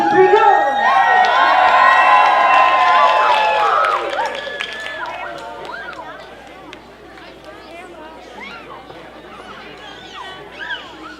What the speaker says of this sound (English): let's do one more cheer if we could before we bring on our first act